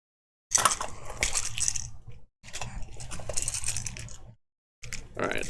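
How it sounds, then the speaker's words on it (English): A deck of game cards is shuffled, with three bursts of crisp riffling and clattering separated by short silences, close and fairly loud with no talking. "Alright, so I'm shuffling up the encounter deck here."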